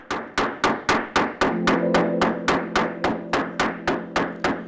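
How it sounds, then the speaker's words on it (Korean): A hammer pounds steadily on a tower of wet packed sand in an earth-building lab, sharp evenly spaced thuds about three per second, joined midway by a low steady hum under the blows. "망치로 치는 충격 때문에 무너지는 줄 알았는데 그렇지 않다"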